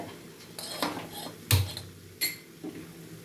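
Cooked mutton liver is moved from one kadai into another: several sharp metallic clanks and scrapes of a utensil against the pan, spaced irregularly and close in a quiet kitchen, with no speech.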